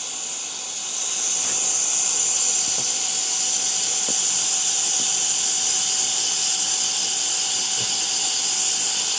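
A compressed air mini blower runs continuously at close range, its fan motor giving a loud, steady hiss and whine that barely changes over several seconds, with a few faint taps underneath.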